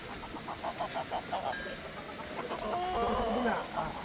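A pullet breeder hen clucks in a series of short, evenly spaced calls, followed by a few higher squawks, fairly close over a steady background hiss of farm ambience.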